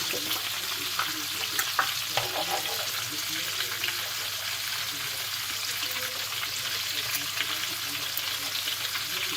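Chicken simmering in a pan with cream and plain yogurt sauce gives a steady broadband sizzle and bubbling, close and fairly loud, with a few faint utensil clicks and no speech.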